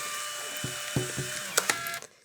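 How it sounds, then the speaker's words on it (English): A few short mechanical clicks and a soft ratcheting whir, close and quiet, as a print is pushed out of a Fujifilm Instax Mini 12 instant camera. "here's the photo coming out now"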